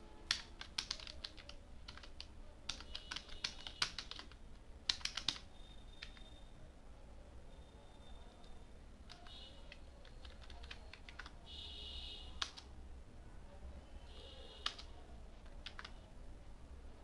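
Someone types code on a computer keyboard while writing a Laravel template script. The keys make quiet, close clicks in irregular bursts with short pauses, over a faint background hiss.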